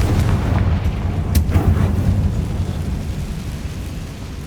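A Confringo fire spell in Hogwarts Legacy goes off with a sharp burst, then a rolling, rumbling boom that lingers as a loud, dense roar and slowly fades.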